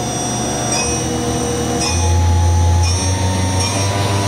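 An Okuma Howa Millac 438V 4-axis CNC vertical machining center runs its spindle at thousands of RPM, producing a steady mechanical whine with sustained tonal hum that steps up in pitch partway through, alone without voices.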